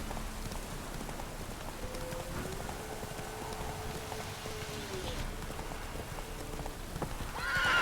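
Hoofbeats of Roach, the horse in The Witcher 3, clopping steadily at a moderate distance over a rainy ambient game soundscape with faint tonal music, growing louder near the end.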